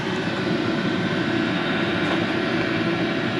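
A diesel heater runs in a garage, blowing hot air with a steady, loud, close roar of fan and combustion that holds constant throughout, with no voices.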